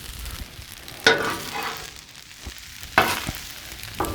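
Shrimp fried rice on a Blackstone griddle, a soft sizzle broken by two loud scraping stirs of a spatula and a few lighter clanks, no voices.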